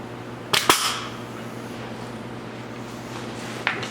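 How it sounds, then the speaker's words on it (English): A hand punch strikes car body metal on a 1972 Triumph GT6 to make plug-weld holes, giving two sharp, loud metallic snaps close together, then a fainter third snap after a steady background hum. "I'm gonna punch two more on the other side"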